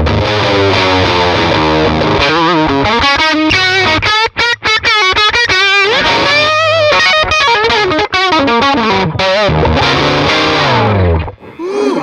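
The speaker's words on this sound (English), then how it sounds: "let's hear what this thing can do if I hit it hard with something like a Les Paul and really open it up" Les Paul electric guitar played hard through a Goodsell Super17 Mark III amp, loud and distorted with dense chords and lead runs, continuous for about twelve seconds with brief gaps and no talking.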